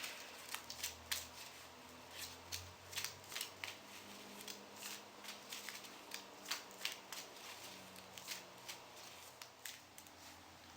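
Star Trek customizable card game playing cards being shuffled, a steady series of soft, crisp riffling snaps and flicks close by, fairly quiet and without any talk.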